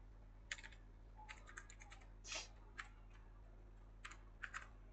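Typing on a computer keyboard while entering CSS code, with quiet, irregular bursts of key clicks in short clusters and one louder press near the middle, heard alone with no talking.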